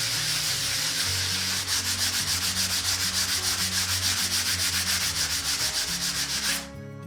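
Hand sanding of dried plaster filler over a patched hole in plasterboard drywall, a steady close scratchy rubbing in quick back-and-forth strokes that runs continuously for several seconds, then stops abruptly near the end.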